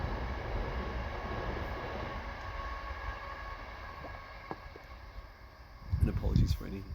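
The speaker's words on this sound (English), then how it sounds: "Just let this train pass for a second." A passing train produces a steady low rumble throughout, with a louder burst of noise near the end; a person talks over it.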